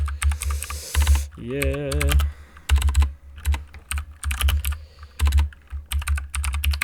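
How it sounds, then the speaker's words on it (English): Typing on a computer keyboard with the microphone resting on it, loud close clicking in bursts of rapid keystrokes separated by short pauses, with a brief spoken word partway through. "because the mic is on the keyboard, I'm typing everything in correctly"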